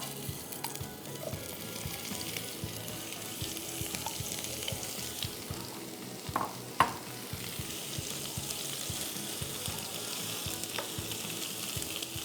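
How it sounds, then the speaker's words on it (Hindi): Khoya roasting in ghee in a pan, with a soft, even sizzle and repeated rhythmic scraping of a spoon, plus a couple of sharper clinks near the middle. "इसको हमने इसमें भून लेना है।"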